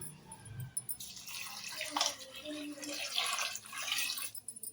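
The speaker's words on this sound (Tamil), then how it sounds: "இப்போ இதில் தேவையான அளவு தண்ணி சேர்த்துக்கலாம்" Water splashes and pours into a pot of brinjal drumstick sambar for a few seconds, close by, with a brief clatter at the start and no speech.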